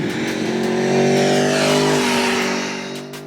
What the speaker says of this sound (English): that's what it costs to hear that great sounding V4